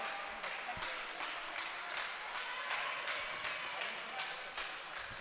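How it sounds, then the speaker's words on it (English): Spectators clap at a high school volleyball match, a dense, steady patter of many hands in an indoor gym with crowd murmur underneath, sustained for several seconds. "A lot of clapping going on."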